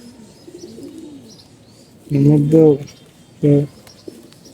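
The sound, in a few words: pigeons cooing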